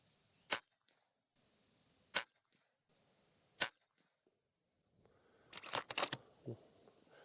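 Three sharp, crisp shots from an FX Impact M3 PCP air rifle, evenly spaced and close, each a short snapping crack, followed by a quick cluster of metallic clicks and handling rattles.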